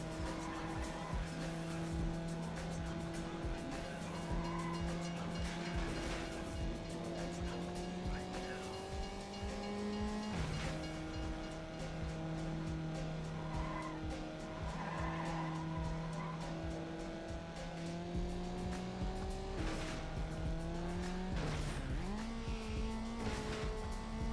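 A racing car in a video game race, its engine droning steadily with shifting pitch while tires squeal and skid repeatedly, a continuous loud mix throughout.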